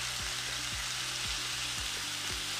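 Chicken pieces fry in oil on a Tefal OptiGrill with a steady, close sizzle, broken by a few soft low knocks as the pieces are shifted around; no one speaks.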